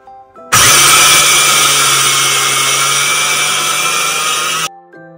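Mini flour mill grinding dry masala spices, switched on abruptly into a loud, steady high-pitched motor roar with a constant hum beneath, running for about four seconds before cutting off.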